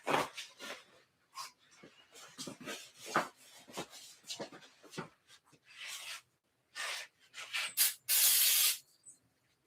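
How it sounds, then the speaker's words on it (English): Carb cleaner is sprayed onto the sticky, oily rear wheel of a 1965 Schwinn Varsity bicycle, heard as uneven bursts of hissing spray and rubbing, ending in one longer, louder spray burst. "we thought we'd give it a shot with some carb cleaner or something"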